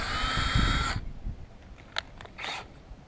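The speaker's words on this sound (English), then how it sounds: "I'm going to drill it back on an angle" An electric drill bores an angled pilot hole into a wooden double gate, giving one loud, steady whine for about a second before stopping, followed by a few faint knocks and scrapes.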